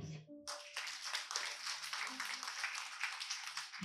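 A church congregation claps for Jesus during a worship service, with brisk, many-handed clapping that starts abruptly after a brief voice and carries on steadily and rhythmically, moderately close.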